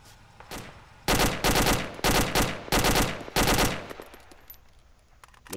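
Automatic gunfire in the military shooter ArmA 2 rattles in four loud, sustained bursts about a second apart, close and harsh, then fades to quieter scattered shots in the background.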